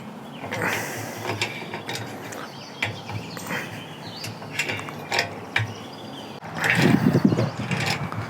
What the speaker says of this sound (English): Just gotta get that big nut off.